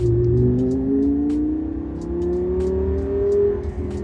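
Lamborghini Gallardo V10 LP 550-2 Valentino Balboni engine climbs steadily in pitch while accelerating through a gear, a smooth rising howl heard from inside the car, with faint clicks over it.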